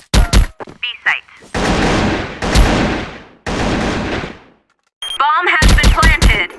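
A Gatling gun fires in long sustained bursts during a bomb-defusal round of a first-person shooter, loud and close, broken up by short gaps, sharp sound effects and in-game voice callouts.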